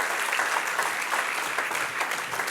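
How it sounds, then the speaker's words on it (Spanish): A church congregation applauds together, dense steady clapping sustained throughout at a close, even level with no break. "Denle un aplauso al que vive."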